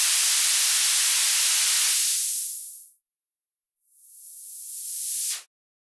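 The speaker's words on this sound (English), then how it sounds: "Doesn't matter what note you play, all the notes are white noise." Broadband white noise hisses loudly for about three seconds, cuts out, then swells back in and stops abruptly, like synthesizer noise bursts.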